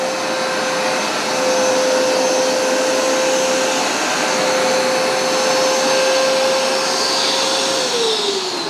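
A Hoover SmartWash carpet cleaner runs continuously, loud and close, a steady motor roar with a constant whine that dips slightly in pitch near the end.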